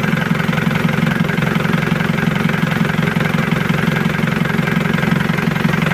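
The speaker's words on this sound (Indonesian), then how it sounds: "Kita biarkan idle dulu, nanti baru kita gas-gas ya" A motorcycle engine idles steadily, a continuous low, throbbing rumble with even pulses, close and loud throughout.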